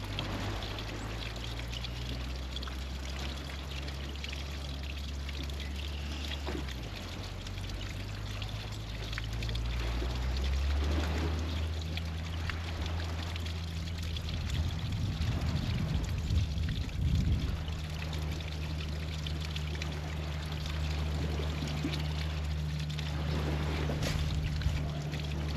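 Water pours and gurgles down into a garden irrigation pipe, a steady trickling and splashing flow with bursts of surging water midway, heard close and alone.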